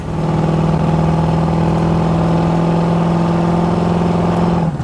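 A 1966 Chevrolet C10 pickup with a 350 V8 drones loudly under throttle from inside the cab, its steady engine roar holding throughout the drive.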